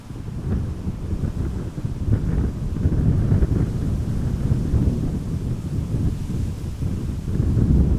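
Wind at Amsterdam Schiphol Airport at about 18 knots, a steady low roaring rumble that buffets the microphone in gusts without pause, with no talk over it.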